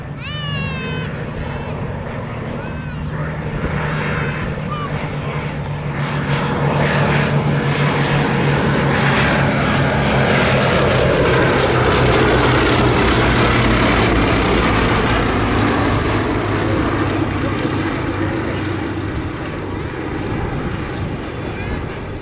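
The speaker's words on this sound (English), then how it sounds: "In now the 2 Westland Lysanders." Two Westland Lysander propeller aircraft fly past with a loud, sustained engine drone that swells and fades, joined by a commentator talking over it throughout.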